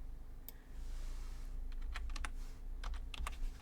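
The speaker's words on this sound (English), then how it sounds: "I just need to type, and typing with one hand is terrible." Someone types on a computer keyboard in irregular bursts of quick, close key clicks over a faint steady hum, with no one speaking.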